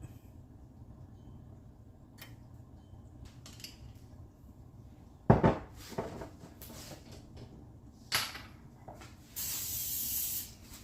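Short hissing bursts of cooking spray, a couple of quick puffs followed by a longer steady spray near the end, with faint handling clatter in between.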